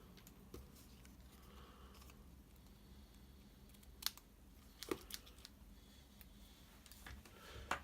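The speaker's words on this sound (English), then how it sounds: "and snip them off." Scissors snipping card stock in a card-making session: a few faint, sharp isolated snips scattered over quiet room tone, spaced a second or so apart, with a couple of closer clicks near the end.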